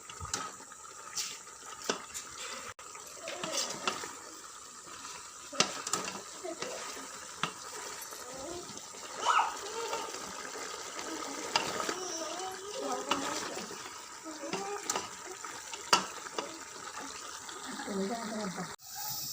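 Chicken feet frying in a pot with water being added, giving steady sizzling and bubbling with stirring and clinks of utensils against the pot throughout.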